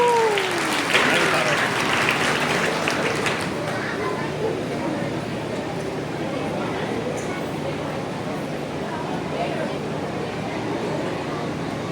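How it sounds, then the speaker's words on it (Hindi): An audience applauds to welcome a member of parliament at a cultural evening event, a loud dense clapping that starts strong and continues steadily throughout. "जोरदार तालियों से स्वागत एक बार हम लोग करेंगे"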